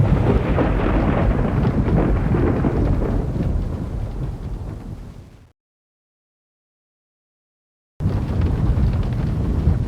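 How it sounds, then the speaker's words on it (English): Thunderstorm from the 1994 Windows 3.11 game The Fall of the House of Usher: loud, dense rolling thunder and heavy rain, fading to silence midway, then the storm resumes abruptly just as loud. "the ordinary commingled noises of the still increasing storm"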